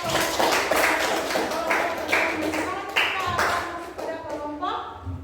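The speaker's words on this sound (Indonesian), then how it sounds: "kita berikan aplaus untuk kelompok" Group applause in a classroom for a student group, steady clapping from many hands filling the room with a few louder taps standing out, continuing throughout before tapering near the end.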